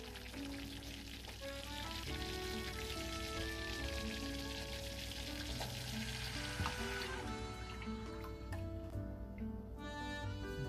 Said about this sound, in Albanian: Tani që 2-3 minuta që po fërgojmë, është tamam